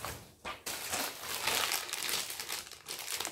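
Crinkly plastic packaging around an F-16 Falcon RC plane instruction manual is crumpled and handled up close, a dense, continuous crackling with short pauses and no talking.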